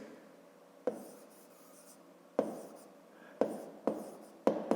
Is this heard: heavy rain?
no